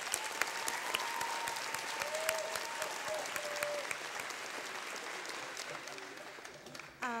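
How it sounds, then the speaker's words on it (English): Audience at an 8th grade recognition ceremony applauding Mrs. Ellis, a sustained crowd of clapping that fades out near the end, followed by a brief moment of speech. "I think she deserves a round of applause."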